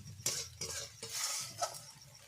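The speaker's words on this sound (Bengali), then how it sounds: "দিয়ে এবারে ভালোভাবে মশলাগুলো কষিয়ে নেব" Spices being sautéed and stirred in a pan, with a spoon scraping and clinking against the metal in several brisk strokes over a low, steady background sizzle.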